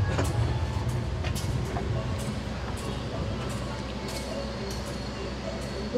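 An Airlangga economy-class passenger train rolls into Cirebon with a steady low rumble and faint rhythmic clatter of wheels on rails, heard from inside at moderate level with some faint background voices.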